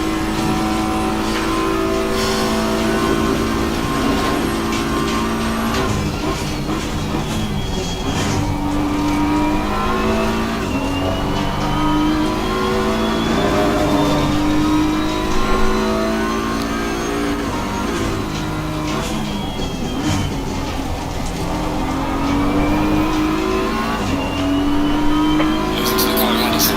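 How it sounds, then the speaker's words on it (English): Race car engine droning steadily on the Mount Panorama circuit in a racing video game, the tone rising and falling through gear changes and corners, with occasional talking over it. "Listen to the car heading sector 1."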